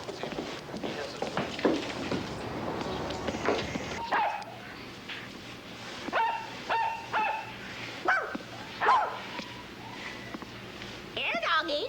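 A bird imitating a dog's bark, a series of short yapping barks repeated at intervals, mixed with people talking and some footsteps.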